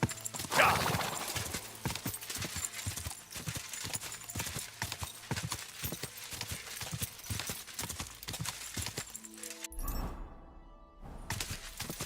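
Steady clip-clop of horse hooves in the game Kingdom Come Deliverance 2, a continuous rhythmic trot close by, with a brief whinny near the start and a sharp break in the sound near the end.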